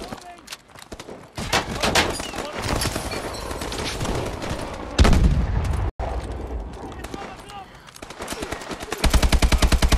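Rapid AK-12 rifle bursts in Call of Duty Advanced Warfare, dense rattling fire running through the clip, loudest near the end, with someone talking over the shooting.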